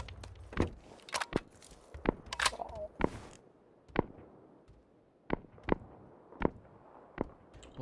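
Gunfire echoes in a PUBG match as a scattered series of sharp, separate cracks spread over several seconds, fairly distant and irregular, with no voices over them.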